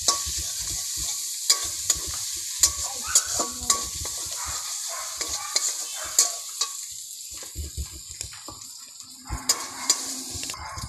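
Snail curry is stir-fried in a pan: a soft sizzle runs underneath while a spatula scrapes and clacks against the pan in repeated, uneven strokes close by.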